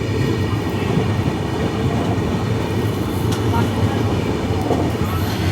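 Capital Express train from Kamakhya to Siliguri rolling slowly, a steady loud rumble and rattle of the carriage heard from inside, with a voice speaking over it.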